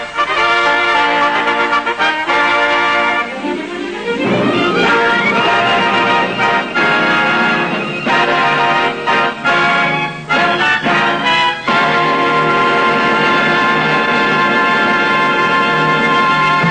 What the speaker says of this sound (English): the orchestra to sound the fanfare which opens the Eurovision Song Contest of 1960